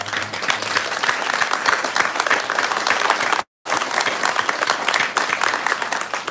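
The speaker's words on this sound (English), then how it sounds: "I think we should all applaud that." A crowd at a groundbreaking ceremony for a six-story Indigenous-led rental building applauds loudly and steadily, broken by one brief silent gap in the middle.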